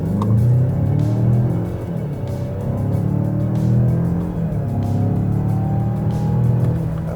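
A 2025 Mazda CX-5 Turbo accelerates along a back road, its engine a steady, loud, torquey drone that swells and eases slightly from inside the cabin, with no other sounds over it.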